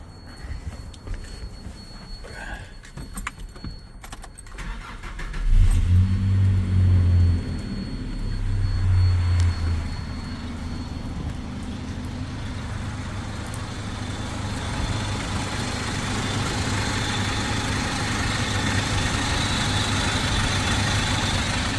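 A 1993 Mazda B2600i 4x4 pickup truck with original paint starts with a short crank and catch, then settles into a steady, rumbling idle that runs close and alone for the rest of the clip.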